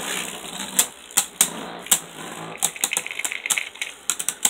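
Beyblade spinning tops clashing in a stadium after launch, a series of sharp metallic clicks and clacks, sparse at first and then quickening into rapid bursts, close and loud with no talking.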